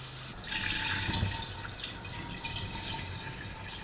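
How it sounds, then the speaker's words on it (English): Cooled brewed tea is poured into a continuous-brew kombucha vessel with a tap, a close, steady trickling pour that is strongest early on and then settles into a softer flow. "Now I've taken out the tea bags and I've left it to cool, and I'm gonna pour this"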